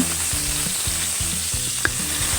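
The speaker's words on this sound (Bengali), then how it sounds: "আমি মাছটা এক পাশ ভাজা হয়ে গেছে, এই জন্য উল্টিয়ে দেওয়া হচ্ছে" A piece of rohu fish, just flipped, fries loudly in a pan with a bright, continuous sizzle and steady close scraping strokes of a spatula.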